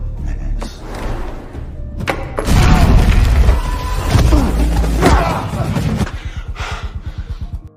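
A grenade explosion in a film scene set in a castle: a loud, booming burst with heavy low rumble that swells and lingers for several seconds amid other crashing action sounds.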